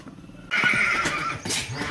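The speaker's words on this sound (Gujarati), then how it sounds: "આહા ઘોડો" A pony neighs loudly and at length at a wedding procession, a shrill whinny starting abruptly and carrying on with a second rise near the end, close by and with no talk over it.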